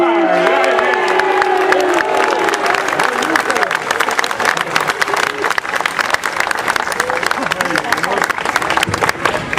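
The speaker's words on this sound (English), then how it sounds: "let's all applaud and let it go out for Luke Robitaille." Large audience applauding and cheering at a Hollywood star ceremony for Bob Miller, dense continuous clapping with whoops and shouts throughout, mixed with crowd voices and some speech.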